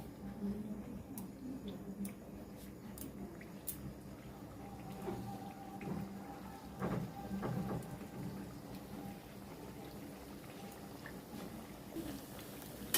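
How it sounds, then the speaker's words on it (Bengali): Thekua dough pieces fry in hot oil, a quiet, continuous crackle and sizzle with scattered sharp pops. "এখন এই ঠেকুয়াগুলো আমি তেলের মধ্যে এক এক করে ছেড়ে দিচ্ছি।"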